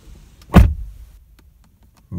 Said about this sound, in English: So we'll go ahead and shut the door.